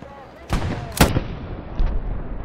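Sniper rifle shot in Hell Let Loose: a sharp, loud crack with a rolling tail, preceded by a thumping burst and followed by a fainter distant report, over low battlefield rumble.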